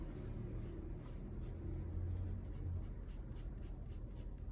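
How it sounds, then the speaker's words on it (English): A 5B pencil drags lightly across paper while drapery is sketched, a faint, continuous scratchy rasp of graphite strokes close up, with no talk. "I'm working right now with a 5B pencil, but I'm touching super lightly with it"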